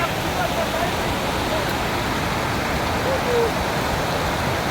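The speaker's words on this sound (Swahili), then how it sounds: "Na maji bado yanaendelea kuongezeka" Heavy flash floodwater in Tanzania rushing in a broad, steady roar that fills the whole clip, loud and continuous with no pauses, sounding like a torrent sweeping past close by.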